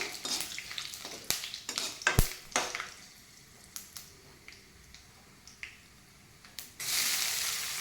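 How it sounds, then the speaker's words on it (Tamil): Onions frying in oil in a pan, a faint sizzle broken by sharp clicks and taps of a spoon against the pan, ending in a louder burst of sizzling. "அதில் கொஞ்சம் எண்ணெயில் நல்லா வறுபடட்டும்."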